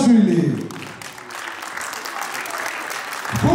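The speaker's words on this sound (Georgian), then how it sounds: "თქვენი აპლოდისმენტები ბარბარე ციცილაშვილი" Applause from an audience at a children's concert in Georgia, a steady mass of clapping that swells at the start, dips briefly, then keeps going at an even level with a voice over it.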